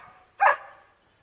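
A single sharp dog bark rings out in a backyard, loud and close, followed by a short fading tail and then quiet.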